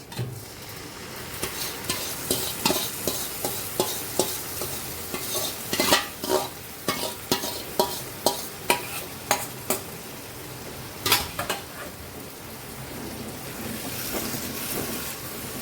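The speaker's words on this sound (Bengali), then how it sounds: "ভালো করে কষিয়ে নেব।" Eggplant cooking with whisked yogurt is stirred hard in a hot pan, producing a continuous sizzle broken by rhythmic scraping strokes of the spoon, close and steady throughout.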